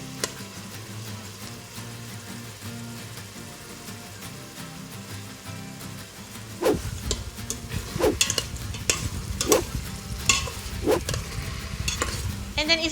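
Beef browning in a hot pan for kaldereta, a steady sizzle with repeated scraping stirs that grow louder and more frequent in the second half, close up, with no talking.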